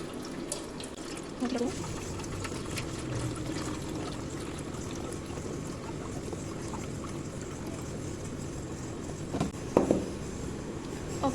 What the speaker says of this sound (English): Pour the 1 liter of liquid milk into your saucepan.